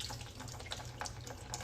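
Tap water runs from a sink faucet through a coffee pod, making a steady, faint splashing trickle with small bursts of spatter and no talking.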